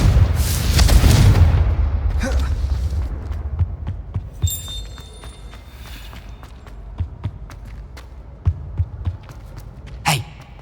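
Confringo explosive spell cast in the video game Hogwarts Legacy, a loud burst at the start that fades into a lingering rumble, followed by scattered footsteps and small impacts.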